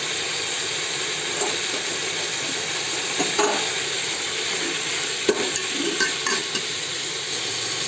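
Gurugaku leafy greens frying in a pan with turmeric, giving a constant dense sizzle and hiss, with a few sharp scrapes and clicks as they are stirred.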